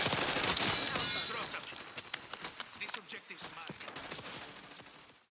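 Rapid submachine-gun fire from the C9 in the Black Ops 6 beta, dense crackling bursts that start loud and continue as intermittent sharp shots with game effects, fading toward the end.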